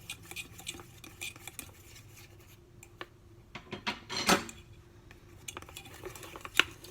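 A whisk beats paste for a decorative candle in a bowl, giving irregular scraping, rubbing and clinking strokes, fairly close and moderately quiet, with a louder burst of rapid strokes midway and sharp taps near the end.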